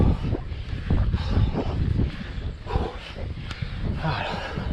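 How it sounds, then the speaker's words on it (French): Strong headwind buffets the microphone of a cyclist climbing a steep road, a loud, gusty low roar that rises and falls while a voice talks underneath. "J'ai du vent de face depuis 15 km."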